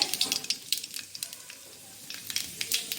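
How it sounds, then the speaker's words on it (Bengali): Nigella seeds and dried red chillies hit hot oil in a wok, crackling and popping in quick bright bursts over a steady close sizzle, with no talk. "কড়াইতে তেল দিয়েছি আরও, এই তেল গরম হয়ে গেছে। এতে আমি এই কালো জিরে"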